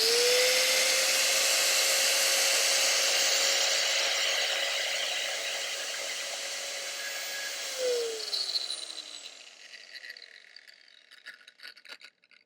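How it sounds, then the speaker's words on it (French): Angle grinder cutting metal while running off a BLUETTI EB70 portable power station: a loud, steady high whine with gritty cutting noise for about eight seconds, then the motor winds down with scattered clatter and faint ticks. "aucun souci non plus pour la disqueuse"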